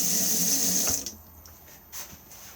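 Water runs from the tap into the basin of a Swift Coastline motorhome, a close, steady hiss that stops abruptly after about a second, followed by a few faint drips and clunks.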